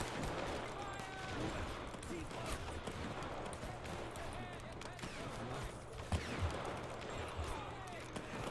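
Musket volley fire in the Born in the Fire mod, a Custer's Last Stand battle in a video game, with scattered distant shots and crackling gunfire throughout under someone talking.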